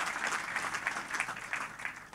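Church congregation clapping in praise at a Hindi worship service, a steady dense patter of many hands applauding together, fairly close and continuous without pause.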